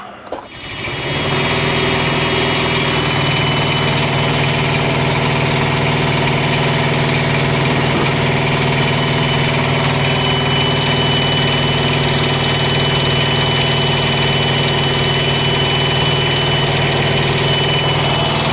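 A truck's auxiliary power unit catches after a brief start and settles into a loud, steady mechanical drone with a constant hum and vibration, running alone close by without any voices.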